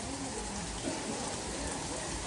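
Dense, continuous rain pours down steadily, a full hiss of drops with no pauses.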